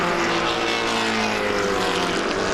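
A pack of historic racing cars roars past at Pukekohe circuit as they head into the first turn, a loud, continuous engine drone sustained throughout with no talk.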